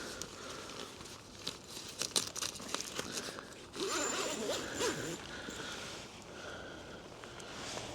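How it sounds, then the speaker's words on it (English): A tent door zipper pulled closed by hand outdoors, a few quick rasping zips followed by a longer steady pull, close and fairly loud over a faint background hiss. "I'll just zip this closed."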